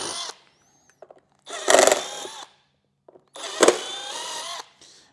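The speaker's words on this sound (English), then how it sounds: "we're going to drill the 4 holes that our original 5x7 was screwed in with" Two separate bursts from a power drill driving through holes in the lid of a 2014-2021 Harley CVO Street Glide, each burst about a second long with a rising whine, close and clear, separated by short silent pauses with faint clicks.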